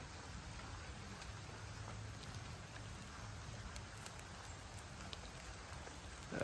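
Rain falls softly on a creek preserve during a barefoot hike, a faint, steady patter of drops with occasional louder taps, no voices.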